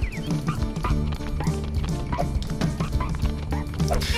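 A little dog character in the Chicken Little video game barks in quick repeated yips, mixed into busy game music and sound effects with other cartoon animal noises throughout.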